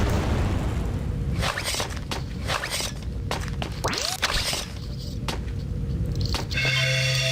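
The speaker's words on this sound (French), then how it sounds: "donc si je jette la grenade..." In the FPS Creator shooter game, a thrown grenade produces a series of sharp booming bursts and thuds, with a rising electronic swoosh midway and a steady synthetic tone near the end.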